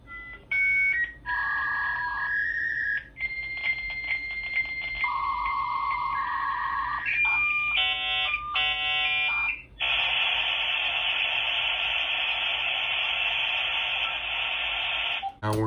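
A dial-up modem connects to Juno internet: a loud, continuous run of handshake tones, with shifting beeps and warbles followed by a long, steady hiss of static, close and alone without talk.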